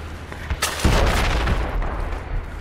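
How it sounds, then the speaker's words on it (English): Mortar fire lands in the war video game Project Reality, with a sharp crack and then a heavy, rumbling boom that lingers as a dense, roaring decay, fairly loud and close, with no talking. "And they have perfectly accurate mortar fire right now on us."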